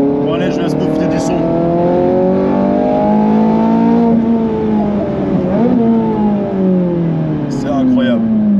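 A Ferrari 458 Speciale fitted with a Capristo exhaust screams loudly through rising and falling revs, with sharp shifts and brief tire squeal, as voices talk over the engine throughout.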